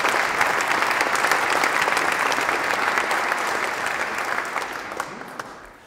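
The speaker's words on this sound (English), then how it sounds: "a round of applause," A lecture audience at the University of Bristol Cabot Institute applauds as speaker Rich Pancost comes to the stage, dense sustained clapping that holds steady then gradually fades out.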